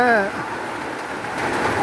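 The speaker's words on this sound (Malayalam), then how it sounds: "ഇവിടെ നല്ല മഴയാണ്" Heavy rain falls in a steady, even hiss throughout, with a brief voice near the start over the downpour.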